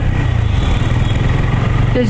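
At a traffic signal with a zebra crossing, a motorcycle pulls away on the green light, its engine a close, throbbing low rumble under a person talking.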